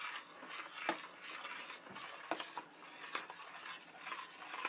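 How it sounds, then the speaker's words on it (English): A spoon stirs a mixture in a pot on a burner over medium heat for sticky bun glaze, giving soft continuous scraping with occasional sharper clinks against the pot, quiet and close, with no talking. "Put it over the burner, put it under some medium heat,"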